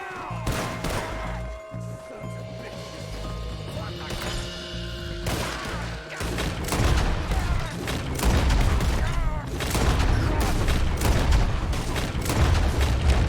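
Gunfire in Red Dead Redemption 2 during a speedrun, scattered loud shots and impacts mixed with game music and booms, growing denser and heavier in the second half, with a voice talking now and then.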